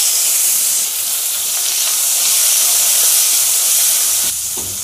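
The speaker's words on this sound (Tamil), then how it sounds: "பச்சை மிளகா எண்ணெயில் போடுறச்சு பட்டார்னு மூஞ்சியில் வெடிக்கும்" Green chillies drop into hot oil for a Tamil chutney with curry leaves and give off a loud, continuous frying hiss that fades slightly toward the end, with no voices.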